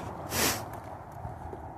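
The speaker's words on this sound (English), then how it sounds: "I get like the sniffles," One sharp, breathy sniff through the nose of a person with a deviated septum, close and brief, followed by quiet.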